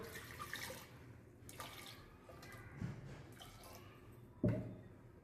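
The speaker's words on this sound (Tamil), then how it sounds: "இதில் வந்து கொஞ்சமாக ஒரு டம்ளர் தண்ணி விட்டுக்கலாம்" A small tumbler of water goes into a carrot and almond mixture in a home kitchen. Faint splashes and drips come at uneven moments, with one sharper splash near the end.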